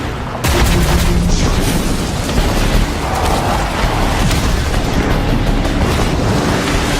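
A Hellfire Mortar explosion in the video game Rage 2 hits with a loud, sudden boom, followed by a dense, roaring rumble that fills the remaining seconds.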